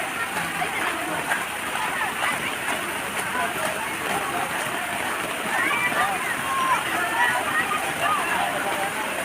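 Heavy rain falls on an outdoor dance performance at a Sattra monastery in Assam as a dense, steady hiss and patter. Faint voices can be heard under it.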